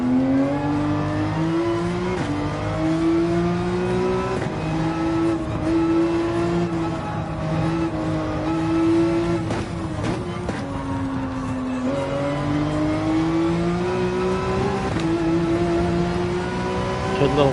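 A BMW race car in Gran Turismo 7 holds a steady, loud engine drone through a lap, its pitch rising and dipping with throttle and gear changes, with brief lifts near the middle before it pulls hard again.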